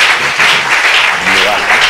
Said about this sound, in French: On applaudit Seigneur plus fort.